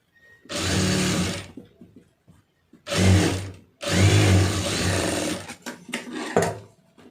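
A sewing machine stitches a plain blouse in a home tailoring session, three loud runs of whirring motor, the last run long and stuttering into short bursts, separated by quiet pauses.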